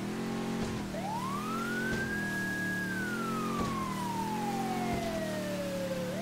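A police-style siren wailing from a coast guard boat in Grand Theft Auto V, one long rising and falling sweep over a steady droning boat engine hum, no talk.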